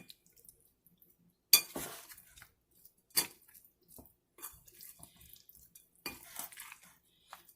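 Mutton masala being mixed with a metal spoon in a bowl gives a few sharp clinks and scrapes spread out between quiet pauses, close and fairly soft.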